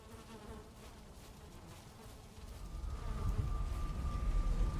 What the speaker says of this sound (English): Okay, all my bees are happy